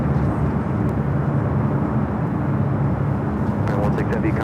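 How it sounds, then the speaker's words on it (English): A United Airlines Boeing 787-9 Dreamliner arriving at LAX from Tokyo Narita gives off a constant loud jet rumble, with a few faint higher ticks toward the end. "Next arrival is United Airlines Flight 33 coming up from Tokyo Narita"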